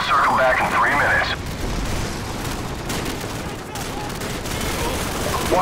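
Mortar fire in a military video game, a dense barrage of booming blasts and crackling gunfire rolling on continuously and loudly, with shouted voices and radio-like chatter mixed in during the opening moments.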